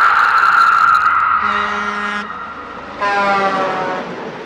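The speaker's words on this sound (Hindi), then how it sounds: "उसकी चीख के साथ एक गाड़ी की हॉर्न की आवाज आई और एक झटके के साथ सिया की आंख खुल गई।" A car horn blares in a horror story, a loud harmonic tone that drops out and sounds again in two or three sustained blasts, close and with no talk over it.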